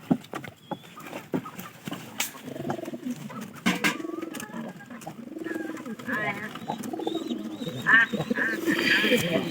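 Pigeons kept in a Bangladeshi pigeon-rearing setup coo in repeated low, rounded phrases, with other birds chirping in the background and people talking nearby.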